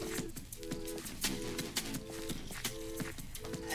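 Horse hooves clip-clop steadily on a hard surface in a repeating rhythm, fairly faint, with musical tones and chirps overlaid and no talk.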